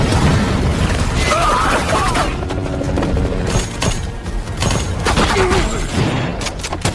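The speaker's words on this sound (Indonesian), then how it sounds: "Jimmy meluncurkan tembakan menggunakan mesin gun," Machine gun fire from a mercenary shootout scene in an action film, a dense, loud barrage of bursts and booms running continuously with a busy soundtrack underneath.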